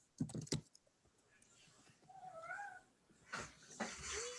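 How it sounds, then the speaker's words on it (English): A house cat meowing to be let back inside during an online drawing class, a few drawn-out mewing calls in the middle of the clip, faint and slightly distant, with clicking and soft knocks around it and no talk. "Oh, I hear a kitty."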